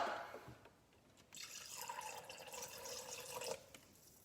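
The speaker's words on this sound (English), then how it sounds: "And then I'm going to add 150 grams of water." Water, 150 grams, is poured into a Thermomix bowl holding mince, a faint, brief splashing and trickling that swells for a couple of seconds and then stops.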